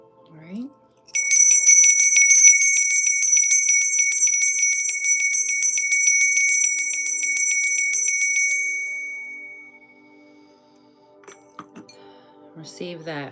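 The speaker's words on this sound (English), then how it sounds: "I'm going to ring the bell, clear your energy" A bright metal bell is struck once and its shimmering ring sustains for several seconds before slowly fading, with a voice speaking briefly at the end.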